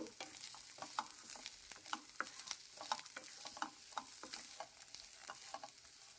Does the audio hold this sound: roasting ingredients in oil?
yes